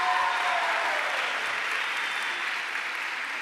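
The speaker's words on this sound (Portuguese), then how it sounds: "Dá uma salva de palmas bem bonita a nosso Senhor." Sustained applause from a church congregation during a Catholic talk, an even wash of clapping that fades slightly toward the end.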